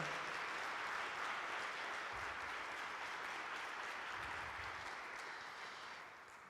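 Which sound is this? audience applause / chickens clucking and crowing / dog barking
audience applause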